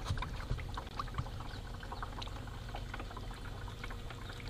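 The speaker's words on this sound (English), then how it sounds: "we're gonna stick a garden hose on here and see what happens" Water from a garden hose pours and splashes onto landscape fabric outdoors, a steady gurgling trickle with scattered drips and bubbling, fairly faint and unaccompanied by talk.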